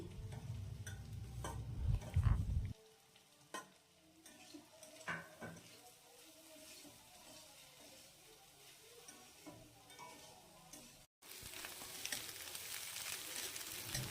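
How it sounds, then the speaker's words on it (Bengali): Onion, green chilli and vegetables fry in a pan for egg chowmein, a soft sizzle broken by scattered ticks and scrapes of a spatula, louder at the start and end, quiet in between. "এরপরে অর্ধেকটা ভাজা হয়ে যাওয়ার পরে আমি এর মধ্যে পেঁয়াজটা আর কাঁচা লঙ্কাটা দিয়ে দিলাম, দিয়ে সবজিগুলোকে ভালো করে ভেজে নিচ্ছি।"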